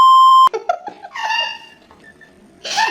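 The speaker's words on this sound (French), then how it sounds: "Là j'ai obligé de mettre un bip là parce que j'ai dit mot." A steady electronic beep tone, loud and clear, lasts about half a second before giggling and chatter resume.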